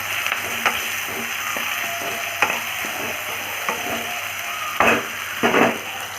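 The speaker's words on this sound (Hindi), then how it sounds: "नमक डालने से क्योंकि जल्दी फ्राई हो जाएगा ऑनियन।" Onion frying with a pinch of salt in a pan for an Indian-style mushroom masala, a loud steady sizzle broken by repeated spatula scrapes and knocks, with sharper stirring bursts near the end and no speech.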